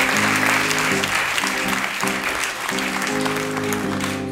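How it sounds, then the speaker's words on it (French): Audience at an improv theatre show at a Paris festival claps steadily and loudly throughout, with sustained musical chords playing underneath. "Je vais vous demander d'applaudir pour que Cunégonde revienne avec lui."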